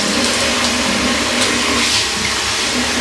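Tap water runs in a bathroom while someone prepares for shaving, a steady loud gushing rush that keeps going without a break.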